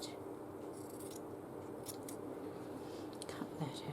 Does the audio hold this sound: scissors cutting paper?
yes